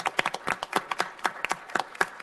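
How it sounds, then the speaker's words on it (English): Scattered clapping from a small audience at a city council meeting, a few distinct hands giving sharp, separate claps at close range. "we're going to give them a round of applause"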